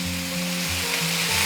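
Beef and sliced onion sizzle loudly in oil on a hot iron plate over high heat, a dense, steady crackling hiss with a low hum beneath and no talk.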